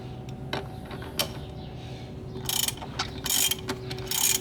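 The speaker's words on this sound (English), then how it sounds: "For this purpose I'm using my 10mm socket" A 10mm socket ratchet loosening nuts on a car intake pipe, with quick clicking pawl bursts at intervals over a steady low background hum.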